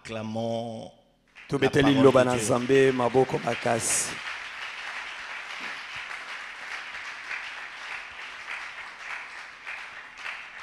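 Congregation applauding in a church service, a sustained wash of clapping that follows a loud sung or shouted voice and continues alone at moderate level.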